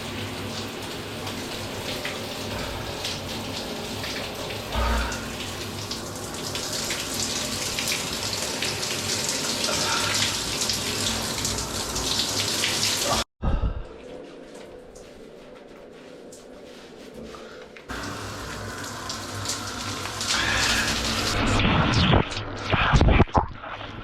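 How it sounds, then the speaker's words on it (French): Shower water runs with a dense, hissing spray that cuts off abruptly, leaving a quieter stretch before the flow resumes and builds again, ending with some clattering handling sounds. "Bref, direction la douche."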